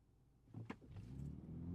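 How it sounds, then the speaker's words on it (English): A 2025 BMW X3 xDrive30 hybrid SUV in sport mode pulls away hard from a standstill, heard from the driver's seat as the engine note swells and climbs steadily over nearly two seconds after a brief quiet start. "looks like and sounds like this off the line from the driver's point of view when in sport mode"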